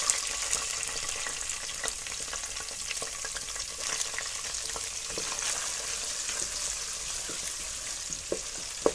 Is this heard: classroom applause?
no